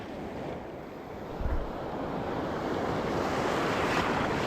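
Ocean waves breaking during a fishing trip, a dense steady roar of surf mixed with wind noise on the microphone, with a brief low thump partway through.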